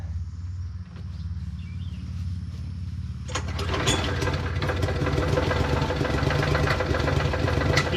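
A modified lawn mower engine chugs at a low idle, then revs up around the middle into a louder, rattling, uneven run, close by with no speech.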